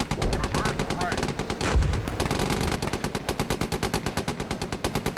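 A tank's coaxial machine gun in the GHPC tank game fires long, rapid bursts of loud, rhythmic gunfire throughout, with steady pounding shots.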